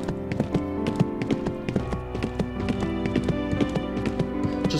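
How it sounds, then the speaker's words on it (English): Steady clip-clop of horse hooves at a run while riding through a field in a video game, rhythmic hoofbeats over bright game music. "Riding a horse in a field"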